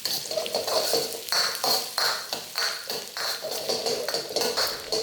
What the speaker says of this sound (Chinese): 加入蒜片，爆一爆香。